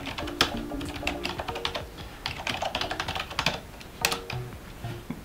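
Typing on a Logitech K480 Bluetooth keyboard, a steady run of close, crisp key clicks with uneven rhythm and a few louder taps, with no talking.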